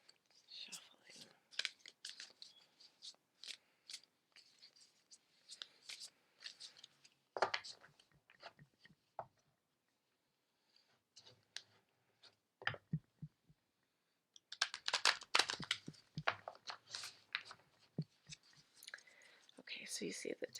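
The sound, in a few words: shuffling a deck of oracle cards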